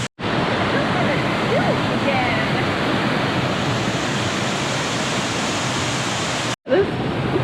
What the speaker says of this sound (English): But this is a gorgeous waterfall.